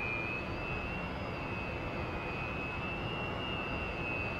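Su-27 jet engine in the DCS flight simulator game whines steadily at taxi power, a constant high-pitched turbine tone over a broad, even roar, with no pauses.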